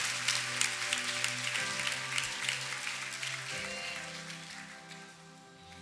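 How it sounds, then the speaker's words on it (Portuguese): A church congregation claps along while sustained organ or keyboard chords play beneath, the applause coming as a dense, moderate patter that thins toward the end; no voices are heard. "Aplauda ao Senhor"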